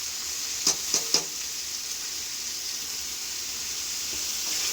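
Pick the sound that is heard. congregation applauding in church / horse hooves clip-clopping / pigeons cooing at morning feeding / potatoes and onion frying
potatoes and onion frying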